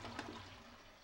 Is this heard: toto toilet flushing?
yes